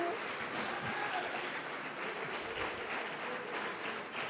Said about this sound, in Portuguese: Então vamos aplaudir o Senhor Jesus e vamos glorificar.